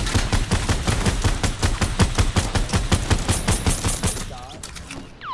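Fortnite gunfire: a long, steady burst of rapid, evenly spaced shots that keeps going for several seconds and thins out toward the end, loud and close, with no talk over it.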